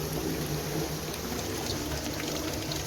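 Water pours steadily from an irrigation pipe fed by an underground connection along a field bund on a farm near Pattukottai, a continuous, fairly loud rushing flow with no break.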